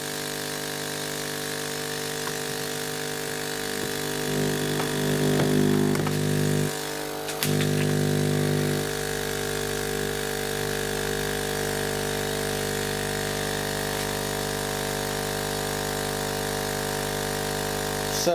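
A laser engraver's air assist pump runs steadily with a droning, humming buzz that changes tone briefly partway through, then settles back into a constant drone, with no talk.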